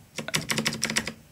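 Keys clack on a Keychron C1 mechanical keyboard, about eight sharp, close presses in a quick, slightly uneven rhythm with no talk.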